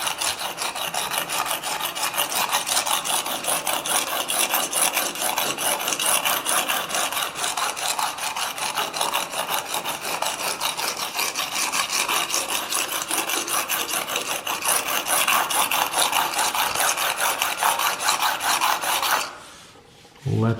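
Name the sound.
sharpening QAD swept blade on 240 grit diamond plate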